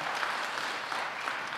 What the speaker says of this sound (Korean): 오늘 처음 나오신 네 박수로 환영하십니다.